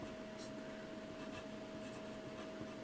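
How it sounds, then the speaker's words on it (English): A pen or marker draws a line during a math lesson, a soft, continuous scratchy rub against a steady background hum, quiet and close, with no talking. "Draw a line right there, it's proportional."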